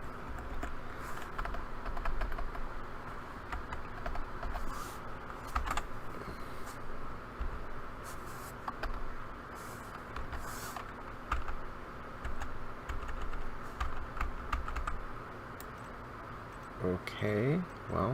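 Close, steady clatter of keys on a computer keyboard, fast irregular typing that runs for a long stretch, with a person talking over it.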